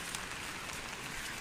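Heavy rain pours down outside during a lockdown at home, a steady, dense hiss of drops drumming on surfaces that fills the whole stretch without letup.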